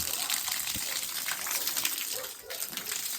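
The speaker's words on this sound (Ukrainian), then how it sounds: "А зараз треба заливати водою. Все. Полилося, полилося." Water gushes and splashes continuously into a freshly concreted cellar pit being built in a village garden, a close, steady pouring sound with faint voices in the background.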